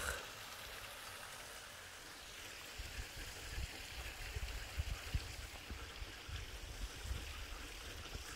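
Water rushing in a stream below a steep, wet hiking trail near Vaumarcus on Lake Neuchâtel, a steady broadband wash with low rumbling pulses, fairly distant and continuous, with no talking.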